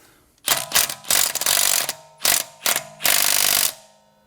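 A compact mid-torque impact wrench rated at 220 foot-pounds hammers at a car wheel's lug nut in several loud, rattling bursts of varying length separated by short pauses, with no talk.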